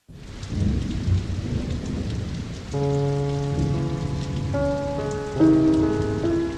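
Heavy rain pours steadily with a low rumble like distant thunder, while sustained musical tones swell in partway through.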